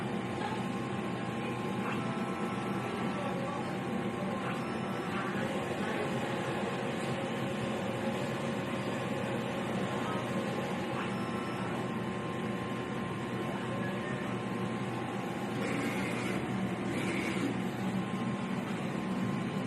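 A DTF printer runs a nozzle check, giving a quiet, steady mechanical hum with faint carriage movements and clicks throughout.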